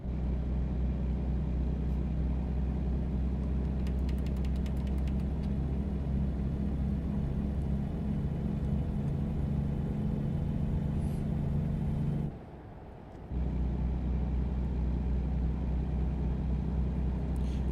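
Steady engine drone and road rumble of a car cruising and building speed on a video-game highway, loud and continuous with a brief dropout near the end.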